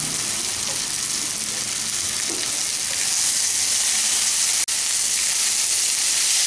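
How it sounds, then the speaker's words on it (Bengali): Leftover rice being stirred with spices and dal in a hot frying pan, a steady loud sizzle and hiss throughout with faint scraping of the spoon and one sharp click near the end. "ভাতটাকে ভালো করে মশলার সাথে মিশিয়ে নিচ্ছি।"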